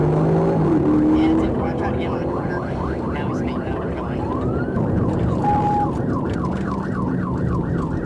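A police car siren wails in rising and falling cycles during a pursuit, loud and close over engine and road rumble, with a voice talking over it.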